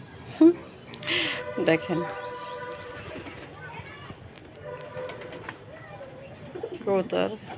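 A pigeon coos several times, near and fairly loud, with a person's voice talking in between the calls.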